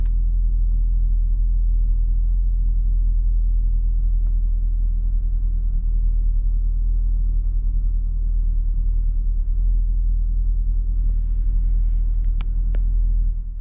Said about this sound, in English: Let's drive this CTS V how you're supposed to.